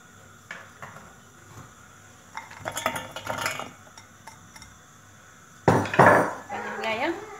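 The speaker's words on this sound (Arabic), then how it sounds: "خصكم بقاو تخلطوهم باش ما يتحرقكمش الشوكولا ديالكم، يعني بقاو تحركوها" Melting chocolate is stirred in an ordinary saucepan, with a utensil scraping and clinking against the metal in scattered bursts, growing busier toward the end.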